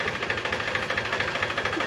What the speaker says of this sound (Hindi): ये है वो ट्रैक्टर, देखते हैं किसका है ये